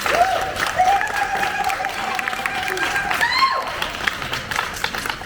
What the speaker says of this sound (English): So give another big round of applause for the leadership.